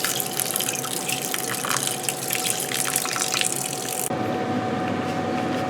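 Tap water runs and splashes over long grain rice being rinsed, a steady close gush with dripping texture that abruptly drops to a softer flow near the end.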